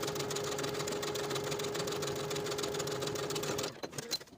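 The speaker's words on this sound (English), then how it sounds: "Then we're going to go back to the sewing machine and top stitch those slanted pocket seams with a 1/2-inch seam allowance." Sewing machine top stitching slanted pocket seams on a skirt, a fast, steady mechanical whir with rapid needle chatter running continuously, then stopping abruptly into a few handling clicks.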